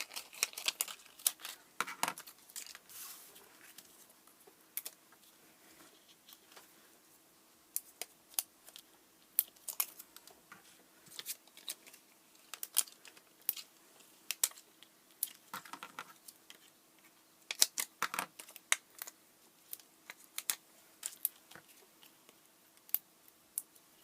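Scissors snip through paper card pieces for a card front, giving quiet, close, scattered crisp cuts and light rustling over about twenty seconds of a calm crafting session.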